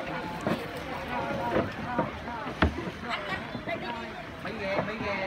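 Small wooden boats moving on a river in Ben Tre, Vietnam, with wind buffeting and scattered splashes and knocks under nearby voices.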